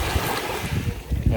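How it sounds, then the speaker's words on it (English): Gentle water lapping in Kotor Bay, Montenegro, a steady low wash of small waves with soft wind noise over the microphone and occasional louder slaps near the end. "You can just hear that lapping in the background."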